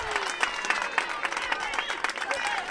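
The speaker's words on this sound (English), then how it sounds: "The crowd in full throat here." Spectators at a high school softball sectional semifinal, Blair-Taylor at Columbus Catholic, cheer and clap in a steady roar with scattered claps, while an announcer speaks over the crowd.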